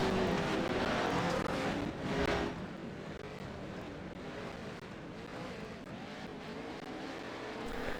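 Race cars in a racing video game pour into the first turn of a lap, a dense, steady engine roar with a louder surge near the start that settles into a sustained drone.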